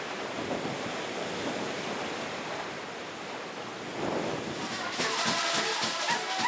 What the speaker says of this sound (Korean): 남태평양의 거센 파도 소리를, 다른 쪽에서 산호초 바다인 라군의 잔잔한 물결 소리를 동시에 들을 수 있습니다